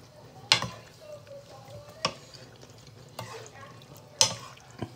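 Pasta tossed in a pan of turkey bolognese sauce gives soft stirring and sizzling sounds, broken by a few sharp clinks of a utensil against the pan.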